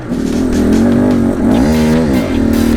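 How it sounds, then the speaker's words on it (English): A loud, close motorcycle engine running rough idles and revs unevenly, its pitch wavering and surging rather than holding steady. "you can hear my bike's not running very well"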